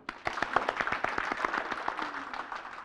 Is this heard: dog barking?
no